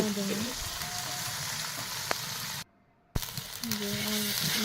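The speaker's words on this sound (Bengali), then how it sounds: "এখন পেঁয়াজ মরিচ দিয়ে দিলাম তেলের ভিতরে" Onion and green chili frying in hot oil, a steady broadband sizzle with a stir or two, briefly cut to near silence midway before the frying hiss resumes at close range.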